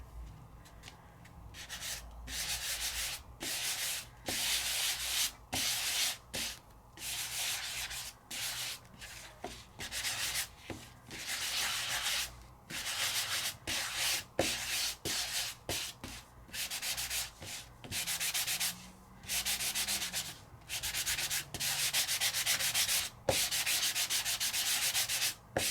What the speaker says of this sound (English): And then let's sand.